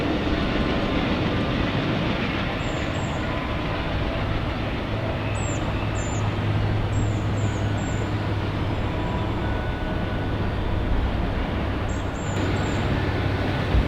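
A train rumbles past beneath old former C&O signals, its broad steady noise filling the whole stretch, with a few high squeaks or chirps on top.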